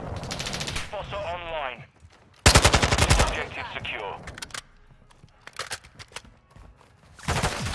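Automatic gunfire in the video game Call of Duty MWII comes in rapid dense bursts, loud and close, with quieter gaps and an announcer-style game voice heard between the volleys.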